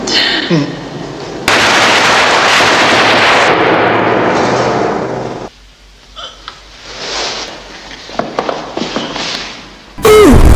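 Loud, sustained gunfire rattles in a heavy barrage, then sporadic shots crack out over a quieter background.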